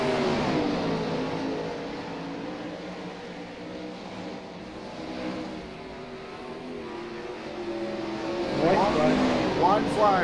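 World of Outlaws 410 sprint cars race around the dirt track at Charlotte, their engines a steady, loud roar with rising passes near the end, under continuous announcer talk.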